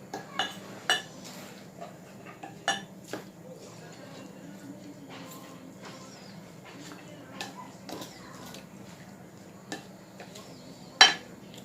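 A spoon scrapes and clinks against a bowl while bread stuffing is mixed, with scattered sharp taps over a low steady hum and quiet talk underneath.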